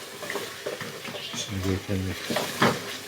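Ginger garlic paste frying in hot oil in a pan, a soft sizzle broken by scraping stirs and light clinks of a utensil against the pan.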